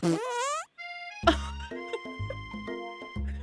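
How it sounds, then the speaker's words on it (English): Cartoonish fart sound effects from a dating sim video game, a rising sputtery blurt followed by a short pause and a run of tonal, bubbly honks and pops, loud and close with no talking. "They did not have to give him fart sound effects."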